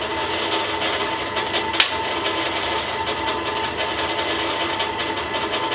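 A Boxford lathe runs at its slower speed on an unlevelled bench, producing a steady, even mechanical whirr with a faint rhythmic rubbing and one brief knock partway through.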